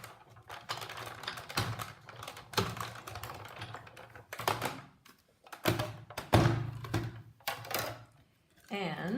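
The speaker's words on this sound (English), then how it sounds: "And I can die cut them out both at the same time." A die cutting machine runs Framelits dies through paper on a standard cutting pad, giving a series of grinding, clattering bursts with pauses between them, close and fairly loud, with no one talking.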